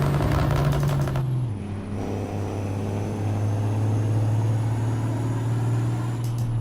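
A Kenworth Legend Star pulling a freighter T-liner triple road train in American Truck Simulator, its engine a loud, steady low drone that shifts pitch as it changes gear near the start, then holds a sustained hum.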